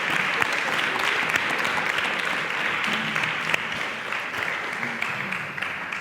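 An audience claps steadily for about six seconds at an educational event on sex education in Spain, a dense continuous wash of applause with no pauses.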